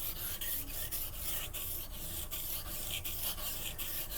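A knife is honed on waterstones to reshape a V edge into a convex edge, giving continuous close rhythmic scraping strokes with regular back-and-forth pulses and no talking.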